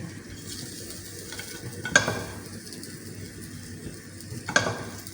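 Goat chops searing in a pan after browning on both sides, with a steady low sizzle and two sharp utensil clinks against the pan partway through; no one speaks.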